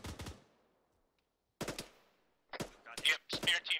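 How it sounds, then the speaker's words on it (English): A crew-served machine gun fires in the ARMA 3 military video game: several short, loud bursts of rapid automatic fire separated by silent gaps, the later bursts denser and closer together. "Looks like he's manning a crew-served weapon."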